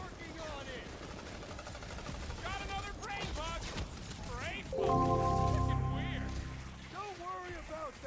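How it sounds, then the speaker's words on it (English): Rocket's five-barrel barrage in the Guardians of the Galaxy video game lets off rapid bursts of gunfire with explosive crackle, swelling louder midway, while someone talks over much of it. "This is his 5-barrel barrage."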